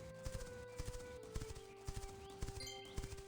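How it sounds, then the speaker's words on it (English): Wild horse hooves clip-clopping in The Quinfall video game, a regular run of sharp hoof impacts at a steady walking rhythm, with faint game ambience and music underneath. "There's a wild horse right there."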